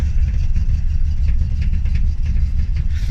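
A Ford Mustang Fox body engine is held at about 1500 RPM while shaking on a cold start, giving a loud, close, steady low rumble with an uneven pulsing throb throughout.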